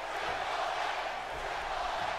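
Loud, continuous roar of an arena crowd in the WWE 2K16 wrestling video game, cheering wildly for Triple H during a match, a dense wash of noise holding steady throughout.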